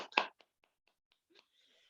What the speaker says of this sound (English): Big clap for Don.